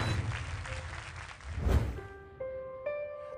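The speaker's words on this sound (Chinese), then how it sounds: "掌声有请老兵登场" An audience applauds as a Chinese People's Volunteer Army 46th Army veteran walks on stage at a televised event. The dense clapping fills the first seconds, then gives way to sustained music notes.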